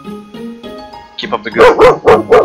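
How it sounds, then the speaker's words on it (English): Dog barking in four loud, close bursts at the end, after someone speaks over a video game's background music. "Sorry about my dog."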